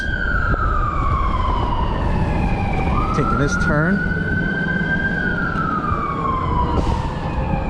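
An emergency siren wails continuously, sweeping slowly up and down in pitch, loud and close over road noise, while someone speaks briefly.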